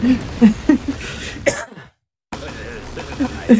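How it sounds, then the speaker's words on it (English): A single sharp cough breaks through ongoing talk, followed by a moment of silence before the speaking resumes. "Shout out to that awkward cough."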